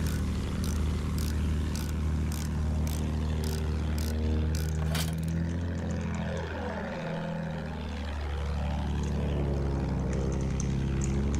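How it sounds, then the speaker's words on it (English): A propeller fighter plane in the Battlefield 1 war game drones overhead, its engine pitch sweeping down and back up as it passes close, under a burst of rapid gunfire at the start. "Keep shooting that plane."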